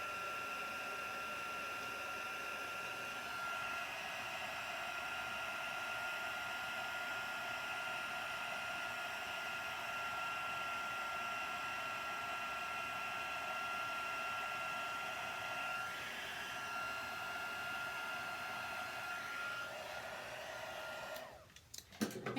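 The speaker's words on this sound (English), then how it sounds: "now I've got my heat tool, my Stampin' Up! Heat tool here, which is going to set this so it actually melts it" A Stampin' Up! heat tool blows hot air to melt embossing powder on a card, a steady close whooshing roar that runs unbroken for about twenty seconds before cutting off with a click.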